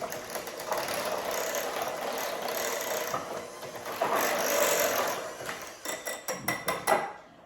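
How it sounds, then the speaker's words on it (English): A handheld electric mixer whirs continuously while mixing a thick French onion dip in a bowl, the motor rising slightly midway, followed by a series of short knocks and taps as the beaters are lifted and tapped. "now I'm gonna just mix that with the regular mixer, handheld mixer."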